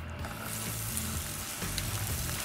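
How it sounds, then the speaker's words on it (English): Chopped onions and cumin seeds sizzling in hot oil in a pan, a loud, continuous crackling fry with small pops and the scrape of stirring, close up and without talk. "Love that sizzle."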